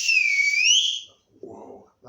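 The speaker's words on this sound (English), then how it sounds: "they blow a whistle to let the driver know that the train's going to start" A train guard's shrill whistle blows once for about a second, its pitch wavering, followed by a brief low rumble and silence.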